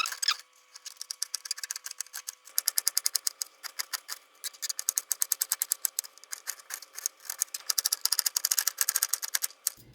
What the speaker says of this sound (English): I've already removed the inside of this pepper, and I'm just going to dice it up.